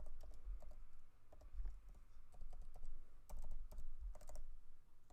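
Keys tapped on a computer keyboard while entering a library card number, short bursts of close clicks with brief pauses between groups, no talking.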